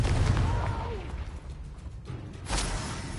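A Confringo fire spell bursts in Hogwarts Legacy, a loud roaring blast with whooshing noise that swells, fades and flares again near the end, while a voice shouts over it.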